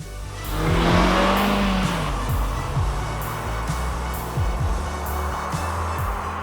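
A 2016 Suzuki Swift Sport with a non-turbo 1.6-litre engine accelerates, its engine note rising and sweeping up before settling into a steady drone with several gear-change dips, loud and close with no talk.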